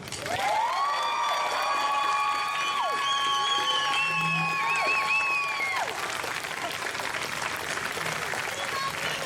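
Outdoor crowd at a trans pride march in Melbourne applauding and cheering steadily, with high shouts and whoops rising over the sustained clapping throughout.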